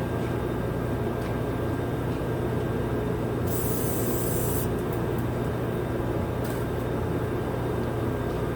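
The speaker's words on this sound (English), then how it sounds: "Let's put some more penetrating fluid on it." A can sprays penetrating fluid onto a stuck part during ABS work on a 2007 Toyota Tundra, giving one hissing burst of about a second and a short second spritz over a steady background hum.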